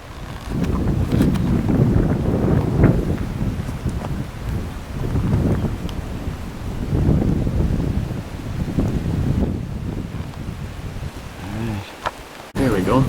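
Wind blows outdoors at a campsite and buffets the microphone in a steady loud rumbling roar that swells and eases over the whole stretch, with a brief dip near the end.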